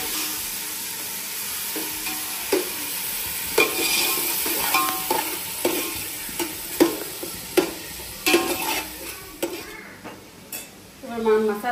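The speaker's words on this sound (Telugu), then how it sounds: "నేను దీంట్లోకి కొంచెం టమాటా జ్యూస్ చేస్తున్నాను, అలాగే కొంచెం అల్లం వెల్లుల్లి పేస్ట్ కూడా వేస్తున్నాను." Chicken biryani masala with tomato juice and ginger garlic paste sizzling and frying in a pan, with a spoon scraping and stirring in irregular strokes and occasional clinks against the pot.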